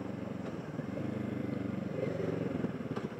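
Motorcycle engine droning steadily near the microphone, its revs rising and dipping as gears are shifted without the clutch on a ride around Hsinchu.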